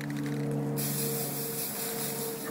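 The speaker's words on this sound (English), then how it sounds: "all we're going to do is spray paint the end caps black" A steady hiss of black spray paint from an aerosol can coating end caps runs throughout, brightening sharply after a moment as the spray starts in earnest.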